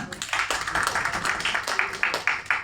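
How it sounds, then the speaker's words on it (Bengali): An audience at a literary festival gives a short round of scattered clapping, moderately close, lively and uneven throughout. "একটু করতালি দিবেন না?"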